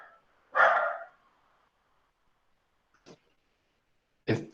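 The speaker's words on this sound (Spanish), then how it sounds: "Los perros de afuera están ladrando y mi perra acá." Dogs bark in short separate bursts, a small pet dog indoors and other dogs outside, with one louder bark at the start and two sharper ones near the end, no talk over them.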